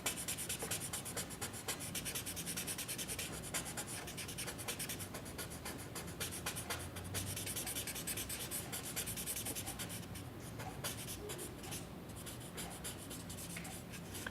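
White chalk drawn and blended with a stump on paper, a quiet continuous scratchy rubbing with faint irregular strokes, close up and without talk.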